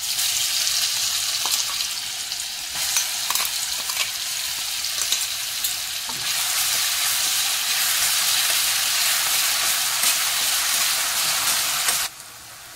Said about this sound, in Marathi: हे मिरचीचा ठेचा टाकायचा आहे केलेला, मिक्सरला वाटलेला, हे टाकूया। चांगलं तेलात परतून घ्यायचं आहे